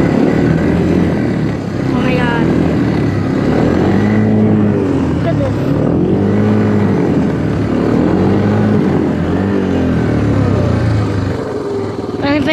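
A 1986 Honda Big Red three-wheeler on Yeti tracks breaks trail through deep snow, its engine droning loudly and close with repeated rising and falling revs. A person talks over it part of the time.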